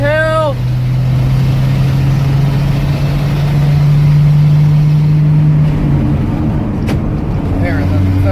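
Engine of an old yellow truck, 'Ol Yeller', drives along a hilly road as the driver shifts into second gear. A steady, loud engine hum runs throughout, and its pitch drops and changes partway through as the gear changes.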